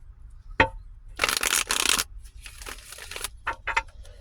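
Tarot cards are shuffled in quick riffling bursts, with a sharp tap first and then two long rustling runs followed by shorter flicks, close and crisp.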